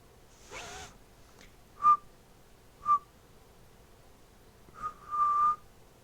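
A person whistles in short bursts: a few brief tonal chirps spaced apart, then a longer sustained whistle at the end, fairly quiet and with no talking.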